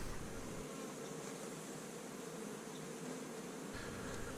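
Honeybees hum while colonies are being split, a faint, continuous buzz under steady background noise, with no talking.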